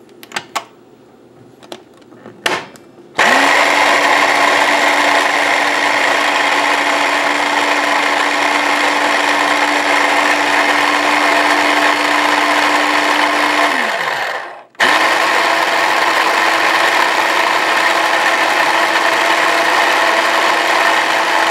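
An Oster 3-cup electric chopper runs steadily for about eleven seconds, a loud whirring motor drone, stops briefly, then starts again and keeps running; a few faint handling clicks come first.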